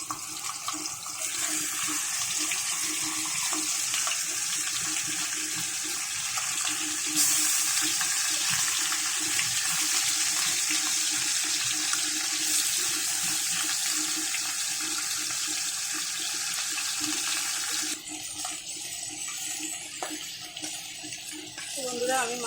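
Fish fry in a hot pan for a bhapa-style fish dish, giving off a loud, steady, hissing sizzle that continues throughout.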